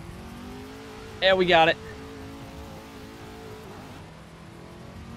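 Semi truck drifting in a driving simulator game on a Moza Racing TSW truck wheel, with a steady engine drone running throughout while a person speaks briefly over it near the start.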